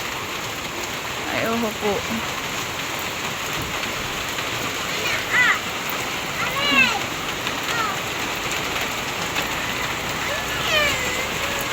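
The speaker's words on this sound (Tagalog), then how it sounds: "Talaga naman pong malakas ang ulan" Heavy rain pours steadily on surfaces nearby in a constant dense hiss, with people talking softly underneath and a few faint higher-pitched voices or animal calls rising above it.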